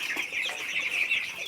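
Two-week-old broiler chicks in a poultry house make a dense, steady chorus of high peeping and chirping, close and continuous, with no speech.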